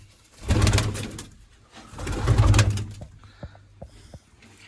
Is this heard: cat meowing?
no